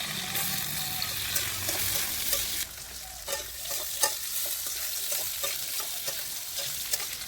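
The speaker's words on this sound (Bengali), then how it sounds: "এখন আলুগুলো দিয়ে একটু ভেজে নেব" Potatoes fry in a wok with a bright, continuous sizzle, broken by a brief dip as they go in, then crackling pops and scraping stirs that continue to the end.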